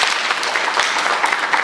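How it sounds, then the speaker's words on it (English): Audience applause at a town hall meeting for the new MLK Hospital, a steady dense wash of clapping from a crowd that stays even and fairly loud across the short stretch, with no voices over it. "a one-clap acknowledgement of applause for Supervisor Ridley-Thomas and his team"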